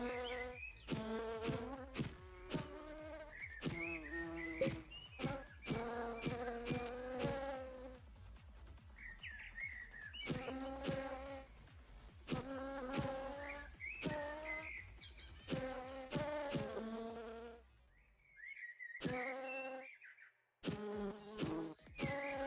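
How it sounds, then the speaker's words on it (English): Bees buzz around a parking lot in a steady stream of close, droning hums that rise and fall in pitch as they fly past, with brief quieter gaps and no voices. "this place is infected with bees"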